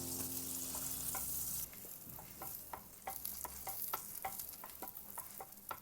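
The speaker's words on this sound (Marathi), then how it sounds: "पावभाजीचे पाव गरम करून घेऊया।" Pav bread for Mumbai-style pav bhaji heats on a hot pan, with steady sizzling and frying hiss under a series of regular scraping and turning taps. The sound is close and alone, with no talking.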